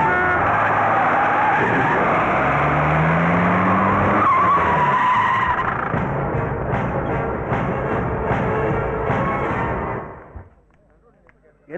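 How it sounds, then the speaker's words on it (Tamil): A loud, sustained tire screech as a four-wheeled police car's roaring engine skids it to a stop, tires squealing for several seconds before cutting off into near silence. "போலீஸ் வண்டி."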